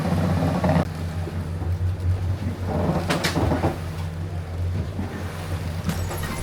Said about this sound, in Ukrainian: Такі хвилі почалися.